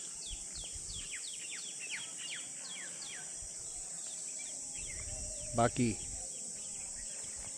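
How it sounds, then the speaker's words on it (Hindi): Birds chirp outdoors with many short repeated tweets over a steady insect-like hiss, and a brief voice cuts in near the end. "यहाँ के पक्षियों की आपको आवाज़ें आ रही होगी, चिड़ियों की चहचहाट"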